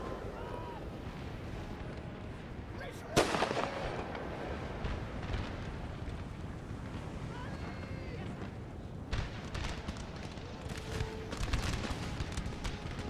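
Artillery fires in the Napoleon Total War battle game, heard as one sharp booming cannon shot followed by low rumbling battle noise and a later distant thud, all fairly faint and continuous.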